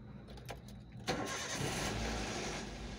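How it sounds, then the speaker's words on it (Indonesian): A first-generation Toyota Avanza with about 177,000 km on the odometer cranks briefly, then its engine catches and settles into a loud, steady idle, recorded close with no talking. "Nih, kita tes mesinnya."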